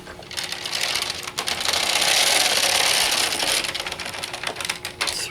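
A knitting machine carriage is slid across the needle bed and back, making a continuous loud mechanical clatter and whir that swells mid-pass and fades toward the end.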